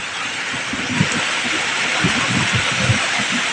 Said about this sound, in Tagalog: Ang ulan mga kapobre oh.